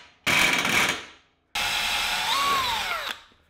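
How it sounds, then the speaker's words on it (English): A handheld power drill drives screws back into a scooter in two bursts, a short whir followed by a longer one whose pitch sags under load, loud and close with no talk. "I'm going to screw these screws back in."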